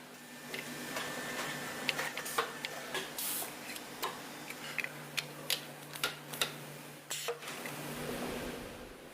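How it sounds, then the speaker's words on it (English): Surface mount technology machines in a mini PC factory placing micro-components onto circuit boards, giving a run of sharp mechanical clicks and ticks at a quick, uneven pace over a steady electrical hum. "SMT, surface mount technology, machines place micro-components on PCBs with extreme precision"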